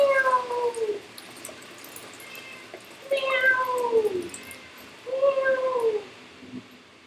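A cat meows three times, each a drawn-out call that slides downward in pitch, with quiet pauses between.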